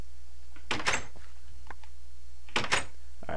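Wooden door in the Minecraft video game being placed or opened, two pairs of quick clunking knocks spaced about two seconds apart over a low steady hum.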